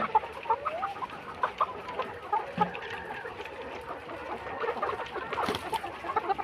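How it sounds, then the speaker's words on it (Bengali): Newly bought laying hens cluck softly in a backyard coop, a scattered series of short calls at moderate distance with faint background noise. "এই যে দেখুন অনেকগুলো আছে মুরগি, সবাই দোয়া করবেন।"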